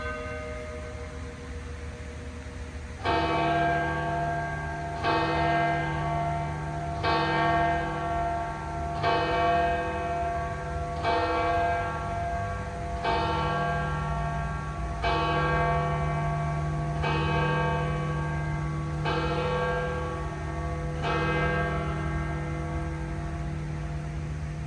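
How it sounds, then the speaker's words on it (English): Church bells toll outdoors, nine even strikes about two seconds apart, each ringing out with a long shimmering decay over steady background noise and a low hum. "And if you can, listen to the bells."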